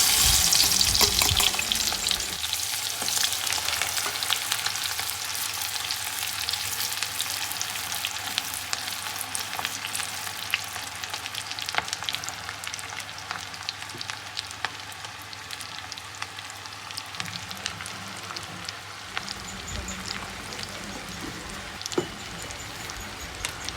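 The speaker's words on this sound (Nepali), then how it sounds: "अब हामी फेरि माछालाई पकाउनको निम्ति" Spices sizzle steadily in a hot pan while being fried and stirred as the base for a fish curry, a continuous close crackle with occasional scrapes and no talk.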